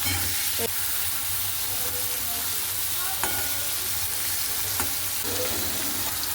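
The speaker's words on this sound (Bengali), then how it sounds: "কড়াই বসিয়ে এসছি তেল গরম হয়ে গেছে দিয়ে দেবো হচ্ছে এই যে উচ্ছে" Bitter gourd slices with salt and turmeric fry in hot oil in a wok, giving a loud, continuous sizzle with faint stirring clicks throughout.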